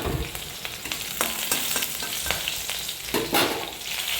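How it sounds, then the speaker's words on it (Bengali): Thick-cut ginger frying in a hot kadai, a steady close sizzle broken by the scrape and clack of stirring, with no talk. "পাশে একটা কড়াই চাপিয়ে ওর মধ্যে ভেজে নেব একটু আদা"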